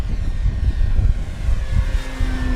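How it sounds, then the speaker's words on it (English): A Dynam PT-17 biplane RC model, 1300 mm span, flies at full throttle in tight steep turns, its propeller engine giving a steady, continuous drone that stays fairly loud throughout, with no talk. "I'll get some tight, steep turns right here. I am at full throttle."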